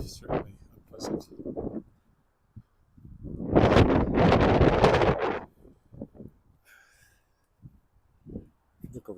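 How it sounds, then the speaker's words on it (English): Gusty wind blows across a microphone on a city street in Regina on a cold March evening, a loud rushing roar building midway then dropping off, with scattered footsteps and brief rustles around it. "the wind is still certainly unpleasant"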